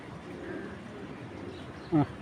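A racing pigeon gives a single short, soft coo near the end, against a quiet, murmuring background.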